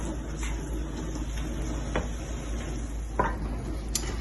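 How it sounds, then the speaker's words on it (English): Minced meat browns in a heavy-based pan while a utensil breaks it up, a low steady sizzle punctuated by a few sharp scrapes and taps of the spoon against the pan. "I've tipped all of that mince in and I'm gently breaking it up"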